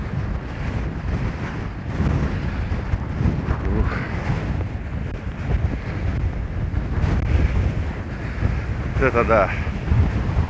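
Strong stormy wind at Anapa beach buffets the microphone in loud, uneven roaring gusts over the rumble of surf, with a person speaking briefly.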